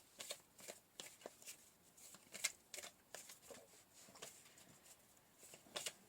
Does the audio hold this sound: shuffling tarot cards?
yes